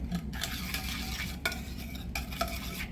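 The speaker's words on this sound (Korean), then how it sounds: "다시마를 튀긴 기름으로 나물을 볶는 이유는 다시마의 감칠맛 때문에" Seasoned namul vegetables for bibimbap are stir-fried in oil that kelp was fried in, with a steady sizzle, utensils scraping and a few sharp clinks against the pan close by.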